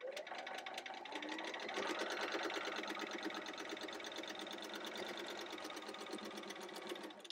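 A home sewing machine stitches a quilt seam in one continuous run, its needle clattering in a fast, even rhythm at close range with no talking over it.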